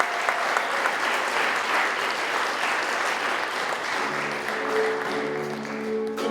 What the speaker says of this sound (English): get another round of applause for all of our students